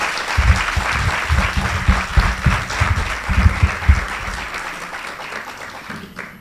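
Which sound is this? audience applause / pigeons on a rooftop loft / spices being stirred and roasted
audience applause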